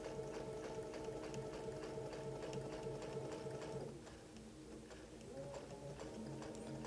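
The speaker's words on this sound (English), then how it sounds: "we want to sew over this intersection" A sewing machine stitches together pieces of a Northern Lights quilt. Its steady, close motor hum carries rapid needle ticking, then eases to a slower pace partway through.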